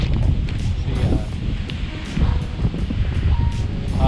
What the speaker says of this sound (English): It's windy, it's freezing, it's kind of miserable to be honest with you.